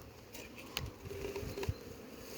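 A soft, steady buzz of bees hums close by, with faint scattered taps and rustles over the constant drone.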